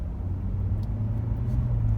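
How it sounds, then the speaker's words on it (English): Low steady rumble of a 2014 Chevrolet Corvette C7 1LT's 455-horsepower engine, a continuous deep drone with no distinct revs, fairly quiet and uninterrupted. "This is actual, that's what the car sounds like, all that 455 ponies underneath the hood"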